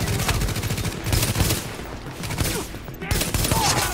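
Rapid bursts of gunfire from The Division's Dark Zone, dense automatic fire with single sharp shots, loud and continuous through the clip, with a voice faintly under it.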